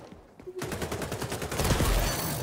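Rapid gunfire bursts in the video game XDefiant, a dense run of repeated shots forming a fast fusillade that grows louder toward the end.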